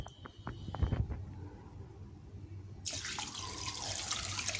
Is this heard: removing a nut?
no